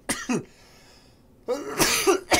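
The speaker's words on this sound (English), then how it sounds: "I just had a sneezing coughing fit at the same time." A person has a sudden coughing and sneezing fit: two quick harsh coughs, a short gap, then a louder burst of coughing and snorting, close to the microphone.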